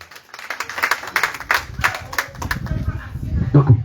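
Congregation clapping and applauding in acclaim of Jesus Christ during a deliverance and repentance church service in Grand Bassam, a dense run of handclaps with voices mixed in, swelling louder toward the end.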